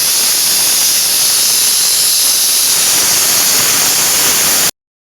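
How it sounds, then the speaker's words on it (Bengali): Loud, steady hiss of oil heating in a kadai (wok), a constant broadband sizzle close up that cuts off abruptly near the end. "এই দেখো আমি কড়ায় তেল দিয়ে দিয়েছি।"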